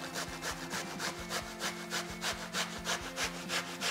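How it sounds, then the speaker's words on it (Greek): Zucchini rubbed on the fine side of a hand grater: quick, even back-and-forth scraping strokes, about four per second, close and clear with no talking. "Και το τελευταίο κολοκύθι το γυρίζω και το τρίβω στο λεπτό."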